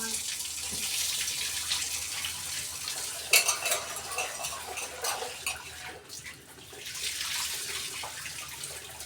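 Tap water runs steadily over rice being washed in a home kitchen, with splashing and a clatter of a pot or utensils partway through; the flow is continuous and close.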